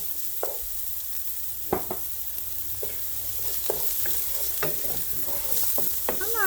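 Onions sautéing in an unwashed pan left from frying pork cutlets, a steady soft sizzle with occasional scraping clicks of a utensil stirring, fairly close.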